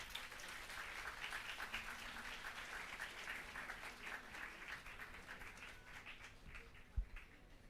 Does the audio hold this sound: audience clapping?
yes